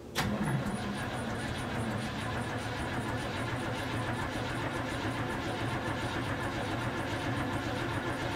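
A 1978 Chevrolet Suburban cold-starting at 12 degrees with no choke: a sharp crank catches almost at once, then settles into a loud, steady, slightly uneven idle close by.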